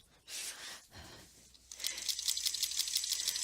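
A sewing machine stitches around a 16.5-inch square pillow, a faint rapid rhythmic chatter starting partway through after some soft rustling and handling noises, quiet and close with no voices.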